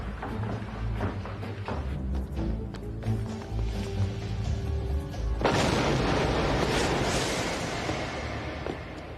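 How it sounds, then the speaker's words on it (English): A loud blast erupts midway, a sudden broadband roar that lingers as rumbling debris, following a stretch of low, busy background sound. "What's that explosion?"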